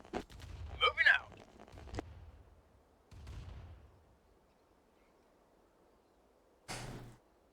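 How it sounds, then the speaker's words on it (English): Gunfire in the real-time strategy game Command & Conquer Remastered: a few sharp cracks and short bursts in quick succession, then quieter spells and a final distant shot, with a faint background hiss. "I'm hearing gunfire, but I don't see it."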